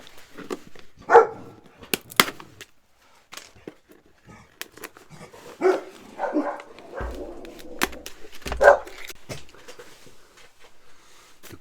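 Several dogs bark on and off, sharp separate barks and a few whimpering yips scattered across a quiet indoor space, some close and loud, others fainter.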